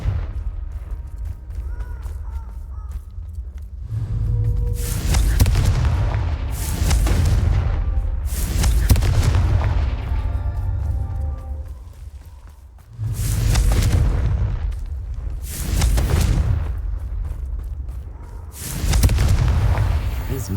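Confringo spell blasts in Hogwarts Legacy go off one after another as loud booming explosions with rumbling tails, layered over continuous game ambience.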